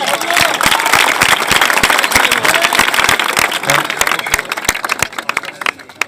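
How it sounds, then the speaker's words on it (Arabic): A crowd at a poetry gathering in Nasiriyah claps warmly, with loud, sharp, overlapping hand claps that thin out and fade toward the end. "تصفيق حار"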